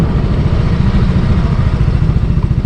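A Yamaha Mio Gear scooter engine idling close by with a loud, rough, pulsing putter and mechanical clatter, the engine running throughout the short stretch before its stop-start system cuts it.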